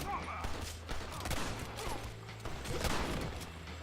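Gunfire in a Red Dead Redemption shootout: a rapid, uneven volley of sharp cracks and impacts over a dense game soundscape, with raised voices shouting in between.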